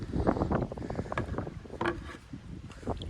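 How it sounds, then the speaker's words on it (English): Wind gusts buffet the microphone on a breezy day while a canoe is paddled on a river, a steady rushing roar with soft water and hull knocks beneath, no talking. "A little breezy today."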